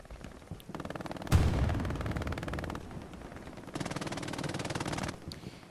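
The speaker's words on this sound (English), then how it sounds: "MG42 action down below by Modern Saint." An MG42 machine gun in the war game Hell Let Loose rattles in long rapid bursts at middle distance. A heavy thump opens the sustained fire, which pauses briefly and then resumes.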